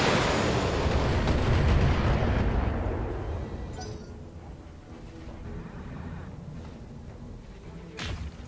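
Heavy weapon fire pounds mechs in the Battletech game, a loud rumbling barrage of booms that fades over several seconds, followed by a quieter sharp impact near the end.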